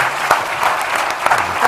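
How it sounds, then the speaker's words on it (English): Audience applause for the panelists at the Global Forum on Childhood Pneumonia, a loud, close burst of many hands clapping with a few sharper claps standing out, and faint voices beneath. "ask you if you can have a round of applause for them"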